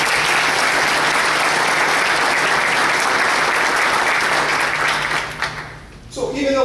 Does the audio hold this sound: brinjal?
no